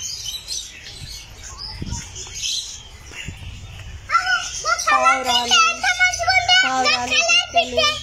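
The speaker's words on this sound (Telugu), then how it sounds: "పావురాలు, పిట్టలు, చిలుకలు అన్నీ ఇక్కడ ఉన్నాయి." Pigeons, small birds and parrots in Gandhi Park in Adilabad, with dense shrill chirps and squawks rising loudly in the second half, close and layered over children's voices and background chatter.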